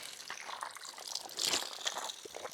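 Mountain spring water runs through a channel cut from an areca palm trunk, a steady close-up trickle and gush with a brief surge in the middle.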